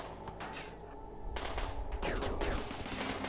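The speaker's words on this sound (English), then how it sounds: "I think he might be firing at Malone next" Charge rifle gunfire in the Rimworld Alpha 12 video game, a steady run of rapid synthetic shots that grows louder and denser partway through, with no talking.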